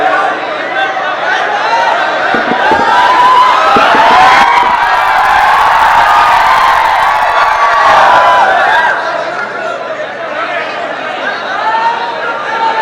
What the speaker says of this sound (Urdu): اگر آپ کو نعرے مارنے کا شوق ہے تو آپ نعرے ماریے